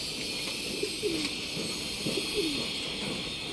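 Racing pigeons coo at Jones Bridge in Binondo, Manila, with a few soft, low cooing calls repeating over steady traffic and city background noise.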